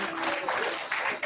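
An audience at a Chetan Business School Hubli college event applauds and cheers: a dense, steady wash of clapping for just over a second, with voices mixed in.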